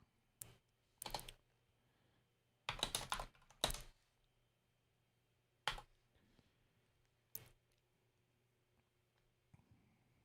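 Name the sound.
typing a message on a computer keyboard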